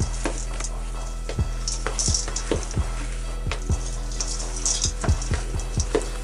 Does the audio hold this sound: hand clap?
no